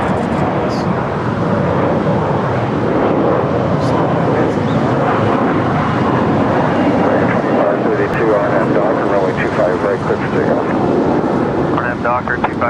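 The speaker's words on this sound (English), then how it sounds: "Air New Zealand 787-9 Dreamliner coming in from Christchurch, flight 1010" An Air New Zealand Boeing 787-9 Dreamliner, arriving from Christchurch, lands at LAX with a loud, steady jet roar that fills the whole stretch, broadband and close, mixed with wind buffeting.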